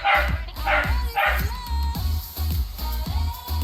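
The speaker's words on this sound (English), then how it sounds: "if you hear dogs in the background" Several dogs bark and yip in the background in repeated short bursts, fairly steady across the stretch, with a low rhythmic music beat running underneath.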